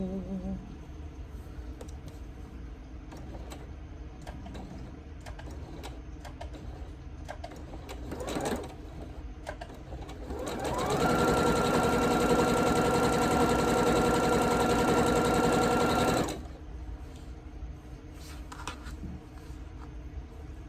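A sewing machine runs steadily for about six seconds, stitching a Scrappy Spools quilt block, loud and close, with quieter handling sounds before and after.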